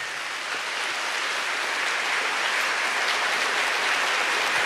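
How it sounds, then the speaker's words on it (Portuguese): A church congregation applauding together, a steady, dense wash of many hands clapping that holds at an even level throughout, with no voices standing out. "Pode aplaudir, se queria aplaudir,"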